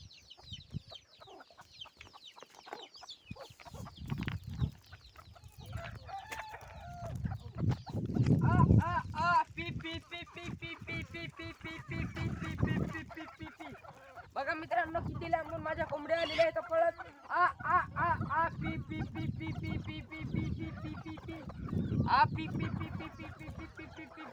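Farmyard chickens cluck and squabble while sorghum grain is scattered for them, a busy, continuous flock chatter up close with bursts of louder calls throughout.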